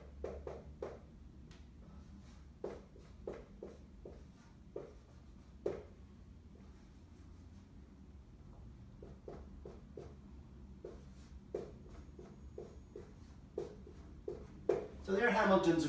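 Chalk tapping and scratching on a board while equations are written out, in short irregular strokes and taps, faint and close, with quiet room noise between marks.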